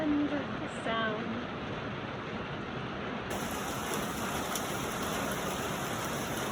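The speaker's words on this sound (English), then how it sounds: "Do you hear that? It's finally raining." Steady rain falling outdoors on open ground near a horse barn, a continuous soft hiss at moderate distance, with a brief bird chirp early on and no talking.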